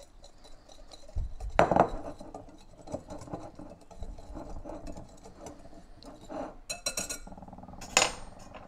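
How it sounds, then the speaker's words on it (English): A whisk stirs keto cookie ingredients in a bowl, producing irregular clinks and taps against the bowl with a few louder knocks, close by and without talking. "now we'll just whisk that together a little bit"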